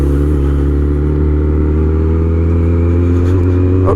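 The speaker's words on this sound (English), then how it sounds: "Oh, a little burble on overrun as well." Supercharged Kawasaki ZZR1400 sport motorcycle, rated at 370 hp, gives a loud, steady low exhaust drone with a slight burble on overrun, heard up close from the rider's position and carrying through the whole moment without any talk.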